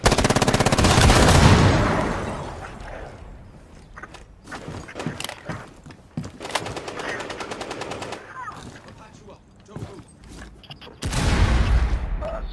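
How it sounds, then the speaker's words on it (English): Rainbow Six Siege gunfire with a flashbang grenade: an opening loud burst of automatic fire, then scattered single shots and clatter, with a second heavy burst of automatic gunfire near the end. "Going flashbang."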